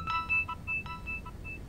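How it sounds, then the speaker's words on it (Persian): A mobile phone rings indoors with a repeating electronic tone pattern, short beeping bursts in a quick rhythm, moderately faint and heard alone. "موبایلت داره زنگ میخوره"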